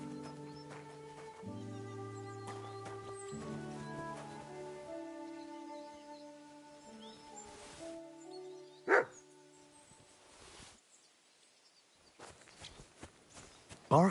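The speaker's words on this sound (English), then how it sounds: "Barking." Dog barking in the medieval game Kingdom Come: Deliverance II, a few sharp barks rising over steady harmonic music and footsteps, with a louder bark near the middle and another at the end.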